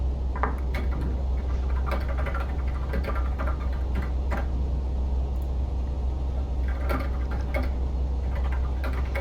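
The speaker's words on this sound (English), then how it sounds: "Doing a lot of typing there." Keys click in quick irregular bursts on a computer keyboard, fairly close, over a steady low engine drone from a truck cab.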